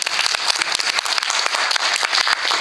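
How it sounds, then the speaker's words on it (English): Audience at the IEEE CloudNet 2013 cloud networking panel applauding the panelists, steady dense clapping throughout with sharp individual claps standing out, fairly close and loud, no talking. "Please give them a round of applause."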